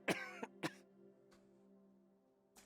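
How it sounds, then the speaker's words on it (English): A character coughs in the video game Genshin Impact: two sharp, close coughs in quick succession, then a fainter one and a last cough at the end, over a soft sustained tonal game-music hum. "Conveniently timed coughing."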